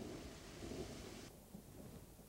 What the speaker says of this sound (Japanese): 突然谷間に雷鳴が響き渡り、気温が急激に下がりました。